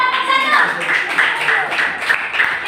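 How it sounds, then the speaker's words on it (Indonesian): Classroom applause for a student group, brisk clapping from a small crowd running through the clip while a voice speaks over it. "beri aplaus kepada kelompok"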